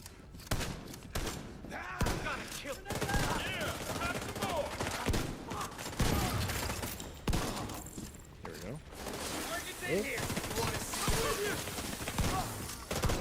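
Repeated shotgun blasts in The Division 2, heavy thumping shots spaced irregularly through a busy combat mix, with a voice talking over parts of it.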